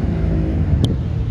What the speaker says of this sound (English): I just wait until like noisy cars go past.